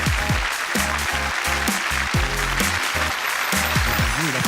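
Audience applause at the Les Voix de l'Océan Indien 2017 awards show, loud continuous clapping mixed with strong music beats and tonal notes throughout.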